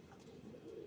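A pigeon gives a soft, low cooing call nearby, a brief throaty warble over faint background noise.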